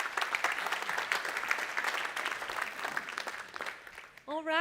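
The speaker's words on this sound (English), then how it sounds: "Please give them a big round of applause." Audience applause for a panel discussion at a business event, steady clapping that fades toward the end as a voice begins speaking over it.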